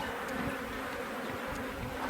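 Honey bees fly around swarm nucs holding queen cells, a steady close buzzing drone that fills the whole stretch without pause and with no voices.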